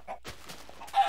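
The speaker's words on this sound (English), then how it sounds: "Alright, there's a chicken." A chicken clucks in a video game, a short burst of clucking near the start followed by brief rustly sounds and a louder squawk near the end, fairly close and alone.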